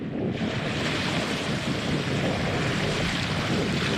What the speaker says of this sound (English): Oneida Lake, affectionately known as Blow-Nida, because the wind blows all the time.